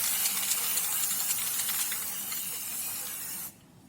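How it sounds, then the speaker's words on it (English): Water-based enamel sprayed from a can onto modelling foam gives a steady, close hiss that holds for about three and a half seconds, then stops abruptly, leaving near silence. "So using any sort of water-based enamel, you can just give it a bit of a spray."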